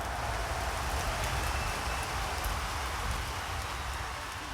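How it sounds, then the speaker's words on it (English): Steady rain falls during a delayed cricket match, giving a dense, even hiss of drops with no breaks and no voices. "Anticipation builds as it starts to rain, and the players must wait it out through a rain delay."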